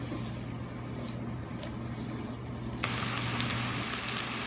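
Chopped chilies, onion and garlic sizzle steadily in a hot pan as they are stirred, a dense crackling hiss that jumps louder partway through.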